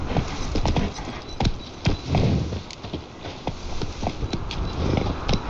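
Horse Roach galloping in The Witcher 3, with rapid rhythmic hoofbeats close by, a brief whinny, and ambient game sounds underneath.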